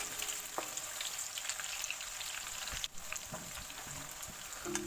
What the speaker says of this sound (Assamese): পিঁয়াজখিনি অলপ দেৰি ফ্ৰাই হোৱাৰ পিছত আমি কেইটামান জলকীয়া দি দিম তাতে